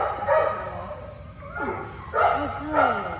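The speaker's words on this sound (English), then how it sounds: "Oh, everyone's barking." A dog barks and yips in short bursts, two or three quick woofs near the microphone, with rising whimper-like tones between them and a person speaking softly over part of it.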